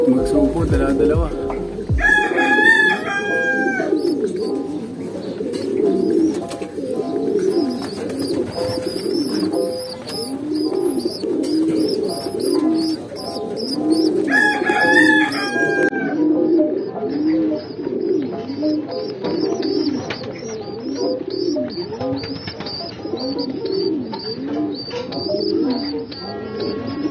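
Birds cooing and calling repeatedly, with a rooster-like crow twice and faint chirps above, close and fairly loud over a busy background.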